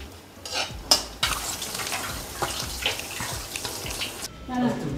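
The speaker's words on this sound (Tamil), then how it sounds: "பாதாம் பருப்பு வறுத்துக்கிறேங்க." Almonds roasting in a pan are stirred with a steady scraping rustle and occasional sharper knocks, against a busy kitchen background.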